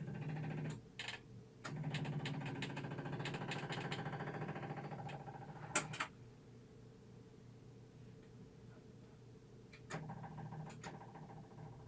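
A Kohler Command CH18-CH25 engine that runs rich with a rough idle cranks and turns over in a steady buzzing drone for a few seconds, then drops to a quieter, faint rumble with occasional clicks.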